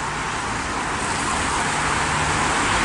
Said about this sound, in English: Now the road outside is busy and noisy